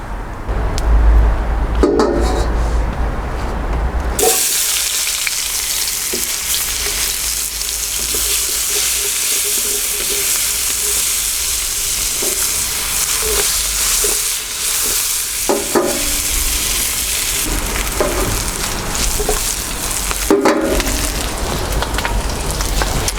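Hot oil sizzles and crackles steadily in a wok while beef is stir-fried for Chinese salt and pepper beef, with a quieter start giving way to a loud, continuous fry punctuated by occasional scraping stirs.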